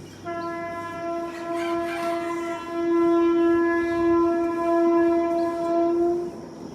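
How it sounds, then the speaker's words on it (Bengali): A train heading toward Lalmonirhat passes near a flower-filled balcony on a quiet morning, sounding a long, loud, steady horn for several seconds over a low rumble of wheels, with no voices. "এই যে সকালে ট্রেনটাও যাচ্ছে, এখন লালমনিরহাটের দিকে ট্রেনটা যাচ্ছে।"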